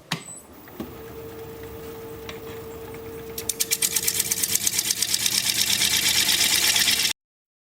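A wood turning gouge is sharpened on a grinder, a steady mechanical hum with a rapid rhythmic rasping that builds and grows louder halfway through, then stops abruptly.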